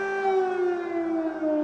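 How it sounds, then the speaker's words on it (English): A loud, steady wailing air raid siren drones on over Kyiv, Ukraine, its tone slowly sliding downward, with no voices over it. "sirens ringing in the capital of Ukraine"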